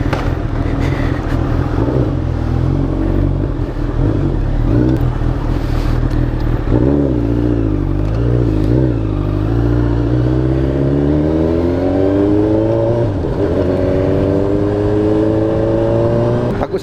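A Honda CB1000R motorcycle fitted with an SC Project exhaust pulls away: a loud, deep, close engine rumble that revs and climbs steadily through the gears, with no talk over it.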